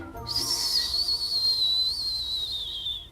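A voice imitates wind with a breathy, high whistling whoosh held steadily for a few seconds.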